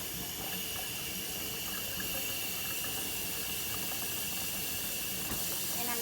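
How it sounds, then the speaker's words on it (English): Lukewarm water runs steadily from a sink tap onto a paper towel, a continuous broadband hiss and splash with a faint mechanical rattle, close and unbroken throughout with no talking. "I'm going to go ahead and turn on my water."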